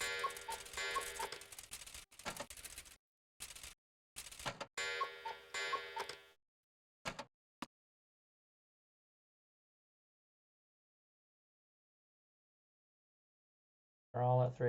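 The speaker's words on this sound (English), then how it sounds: "I'm just playing with the clocks." Clocks in a video game tick and chime as they are fiddled with, sounding in bursts of bright metallic ticking and ringing that break off into silence before a final loud chime.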